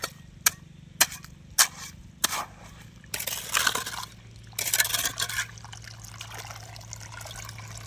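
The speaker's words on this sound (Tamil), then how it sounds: "அப்புறம் தண்ணி எப்படி வருது பாருங்கள்" Water trickles and splashes into a freshly dug fishing pond, starting with sharp isolated splashes and then swelling into louder gushing bursts before settling to a low, steady flow.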